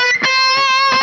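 A quick six-note run on distorted electric guitar, each note picked sharply in alternating strokes, loud and close with a sustained, buzzing tone and no voice.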